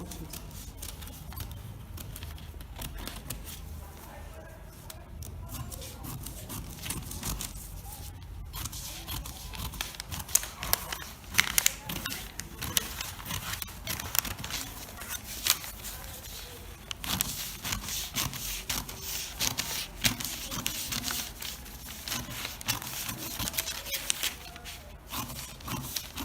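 Scissors cut through a paper shirt pattern in a long run of soft snipping and crisp crunching strokes, close and fairly quiet, with faint handling rustles between cuts.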